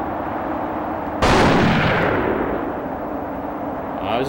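A sudden loud blast from a PS2 game, The Thing, as landing gear is blown up, with a sharp boom that decays over a couple of seconds above a steady background hum.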